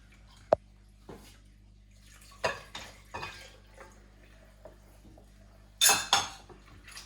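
A spoon stirs dried fruit and a milk mixture into hot cross bun dough in a bowl, producing sporadic clinks, taps and soft scrapes, nearby and without talk.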